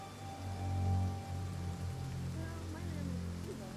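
Steady patter of rain falling in the survival video game DayZ, a soft continuous wash of drops over a low hum, with faint tonal game sounds drifting in toward the end.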